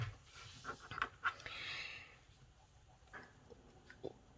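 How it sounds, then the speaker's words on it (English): A person yawns at close range, a drawn-out breathy exhale with soft wheezy and throaty catches, faint and alone with no talk. "I'm yawning"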